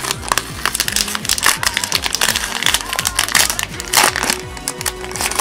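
Close, loud crinkling and rustling of plastic wrapping as a One Piece swordsman can-badge blind package is torn open, continuous crackling throughout with no talking.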